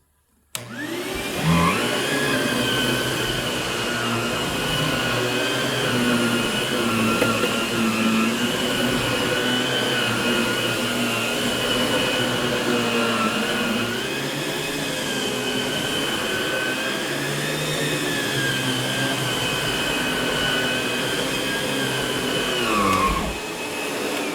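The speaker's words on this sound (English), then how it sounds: "it's a good little vacuum" A ProTeam ProForce 1500 backpack vacuum cleaner motor starts up and runs loud and steady, with a high whine that shifts pitch slightly midway before cutting off at the end.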